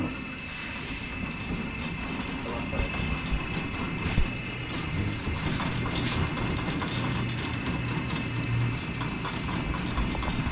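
A continuous mechanical rumble and hiss of a running machine engine, steady and moderately loud with no pauses.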